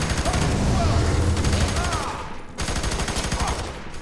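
Rapid, dense gunfire from a teammate in the co-op shooter F.E.A.R. 3 in a prison level, sustained bursts with a brief break partway through, loud and near.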